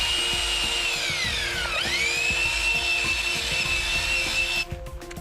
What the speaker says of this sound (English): mix as you go with the 1/2-inch drill and cone mixer.